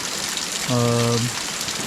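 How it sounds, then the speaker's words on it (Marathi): Heavy rain pours down at an outdoor Dahi Handi festival in Kankavli, a steady broadband hiss, with a brief tonal blare rising over it partway through. "जोरात पाऊस लागला"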